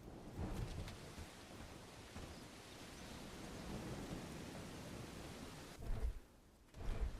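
Steady rain with rolling thunder in the medieval video game Bellwright, a dense continuous wash that swells with two deeper rumbles near the end, heard alone without talk.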